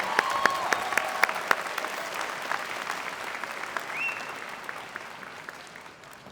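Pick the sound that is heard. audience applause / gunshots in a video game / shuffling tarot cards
audience applause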